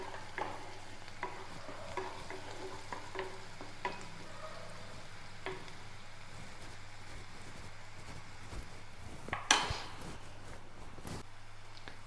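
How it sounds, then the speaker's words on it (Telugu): Carrot, onion and capsicum frying in a pan with a steady soft sizzle and occasional stirring clatters and spatula scrapes, one louder scrape near the end. "క్యారెట్ ఆనియన్ క్యాప్సికమ్ మంచిగా ఫ్రై అయిపోయినాయి"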